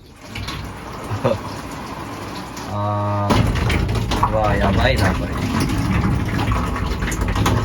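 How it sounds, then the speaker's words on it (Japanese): Water from a hose drums on the roof of a Toyota Hiace van, a continuous splashing patter heard from inside, with a brief tonal hum partway through and a person talking excitedly over it. "ボトボトボトボトボトってめちゃくちゃ音鳴る"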